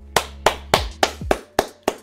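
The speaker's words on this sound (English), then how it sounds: "clap it up for CloverWorks." Seven crisp hand claps in an even rhythm, close and loud, each sharp snap ringing briefly before the next.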